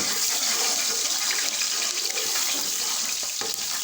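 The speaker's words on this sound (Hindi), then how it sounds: "अदरक लहसुन का पेस्ट हम फ्राई कर लेंगे, ब्राउन होने तक इसको पकाएंगे हम।" Ginger garlic paste fries in about a cup of hot oil for desi-style Chinese rice, giving a loud, dense, continuous sizzling hiss close up with no talking.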